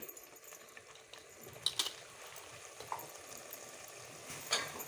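Vegetables with turmeric being stirred in a pan for a Bhogi mixed-vegetable dish, giving a faint, steady low sizzle with a few soft scrapes and light utensil clinks, no voices.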